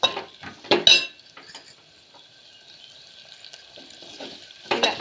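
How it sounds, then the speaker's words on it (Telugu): Onions and spring onion stalks frying in a pan for a bottle gourd and dried shrimp curry, stirred with a metal spoon in clinking scrapes at the start and end over a low steady sizzle, close by, no talking. "ఇప్పుడు అందులో ఉల్లికాడలు అలాగే ఆనియన్ వేసుకున్నాను. ఇవైతే వేగేంత వరకు కలుపుకోవాలి."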